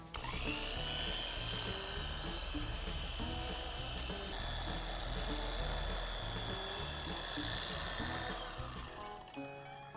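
A Porter Cable polisher fitted with a fine black pad runs at low speed on a car finish, a close, steady whirring hum with a high whine that holds evenly before winding down at the end.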